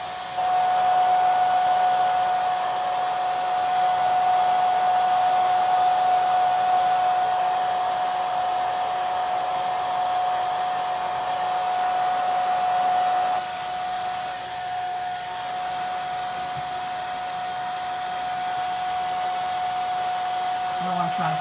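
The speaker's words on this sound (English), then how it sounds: "this blow dryer belongs to this place where we're staying, so it's probably going to be loud" A rented lodging's handheld hair dryer runs close and loud, a steady whirring roar with a constant whine that drops slightly in level partway through as it is moved, no talking over it.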